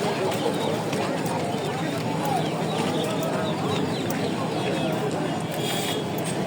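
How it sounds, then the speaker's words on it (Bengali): Chickens and roosters cluck and crow amid the steady din of a busy bird and pigeon market, their calls mixed into continuous crowd chatter and nearby talk. "বিভিন্ন জাতের মুরগি আছে, মোরগ আছে, আর কবুতর আছে।"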